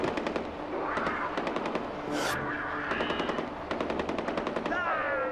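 Rapid bursts of automatic gunfire in the video game Far Cry 4, fired at a charging leopard, crackling in quick repeated volleys with a short pause midway and a faint whoosh, loud and close with game noise beneath.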